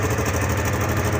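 A car engine runs at a steady idle while the vehicle reverses a short distance in a street, a continuous low hum with faint vibration and no voices.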